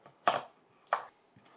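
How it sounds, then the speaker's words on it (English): A knife cuts through a peeled yellow onion on a cutting board, three sharp close chops spaced well apart, with no talking. "We're just going to chop it in half."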